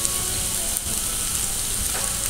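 Food crackles and spits in hot oil on a sizzling Pepper Lunch iron plate, a dense continuous fry heard up close with no talk.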